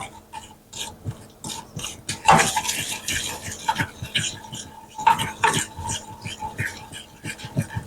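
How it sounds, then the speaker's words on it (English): A spoon scrapes and stirs caramel popcorn syrup in a pot on the stove, a steady series of close rasping strokes with occasional louder clanks against the pot. "So I'm stirring it, make sure it's mixed up real good."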